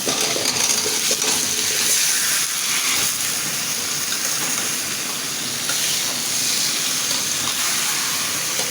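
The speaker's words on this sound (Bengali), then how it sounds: "আমি এখন তরকারিটা দিয়ে দেবো" Chopped bottle gourd goes into well-fried spices in a pan for a koi fish curry, giving a loud, continuous sizzle with stirring scrapes and no speech.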